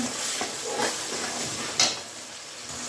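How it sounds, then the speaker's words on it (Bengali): Onion paste fries in oil with bay leaf, cinnamon and cardamom for chicken pulao, making a steady hissing sizzle with a brief sharper clatter near the end and no talking. "পেঁয়াজ বাটা দিয়ে দেব, একটু ভেজে নেব"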